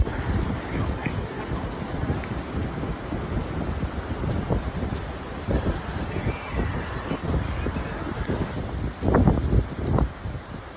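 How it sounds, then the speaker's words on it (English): Strong gusting wind buffets the microphone outdoors in a constant rumbling roar, with a louder gust near the end and faint voices beneath. "Super windy."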